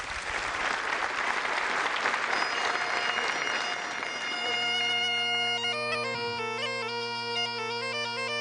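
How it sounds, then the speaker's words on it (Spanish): Audience applause for performer Antonio González at a sones music semifinal, a dense burst of clapping that fades as sustained instrumental music rises and takes over partway through. "Un fuerte aplauso de nuevo para Antonio González"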